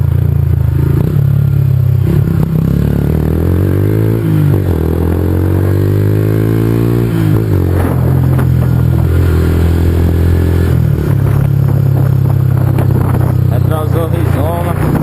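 A Yamaha XJ6 motorcycle with an aftermarket Rizoma exhaust rides through city streets, its engine droning loud and steady with rising and falling revs, while a rider talks over it throughout.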